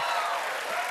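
Enthusiastic audience applause at a talk-show taping, a dense, steady wash of clapping that fills the whole short moment at full loudness with no voices on top.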